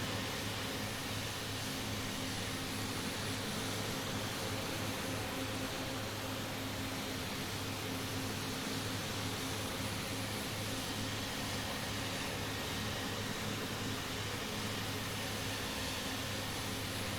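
Twin turboprop engines of a Shorts SC.7 Skyvan in Microsoft Flight Simulator hold a steady, loud droning hum with a constant tonal whine, running evenly throughout with no voices.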